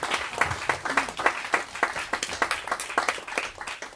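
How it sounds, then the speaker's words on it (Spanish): A church congregation claps together, steady rhythmic hand claps close by and fairly loud, with a few voices mixed faintly underneath. "Sí, déle ese buen aplauso al Señor"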